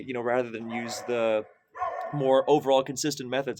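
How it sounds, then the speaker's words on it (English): Dogs bark and yip in the background, partly masked by someone talking steadily over them. "I apologize for the dogs in the background"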